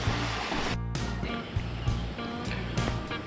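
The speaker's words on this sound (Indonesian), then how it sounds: "Ini adalah sungainya." A river on a forested hiking trail rushes steadily nearby, a continuous watery wash with small splashing bursts, heard quietly and alone.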